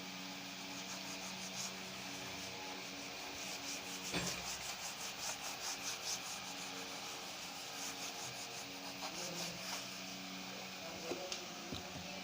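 Writing is rubbed off a board during a physics lesson: a steady, close rubbing and scrubbing runs throughout with rhythmic back-and-forth strokes, faint and alone with no talk.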